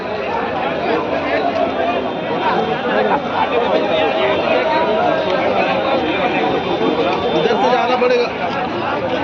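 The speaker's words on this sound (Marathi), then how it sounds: "इकडं बी गर्दी" Dense crowd chatter fills the busy Sambhajinagar vegetable market, a steady, loud babble of many overlapping voices with no pauses, close and all around.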